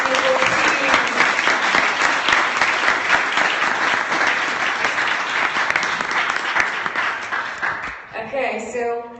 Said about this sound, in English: I think that it deserves a clap, especially for the team